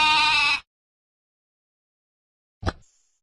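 A single sheep gives a loud, wavering bleat lasting about half a second, then silence, then a brief sharp second call near the end.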